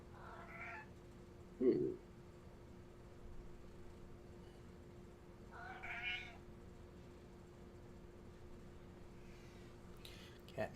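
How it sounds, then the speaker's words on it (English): House cat meowing a few times in a quiet room, faint drawn-out calls spaced seconds apart, with a brief murmur from a person. "Cat needs to shut up."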